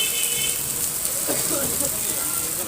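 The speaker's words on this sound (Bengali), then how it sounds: "প্রচুর পরিমাণে শিলা বৃষ্টি হইতেছে" Hail falls heavily in Dhaka, a dense, steady hiss and patter of stones striking surfaces all around, with faint voices and clinks mixed into the continuous downpour.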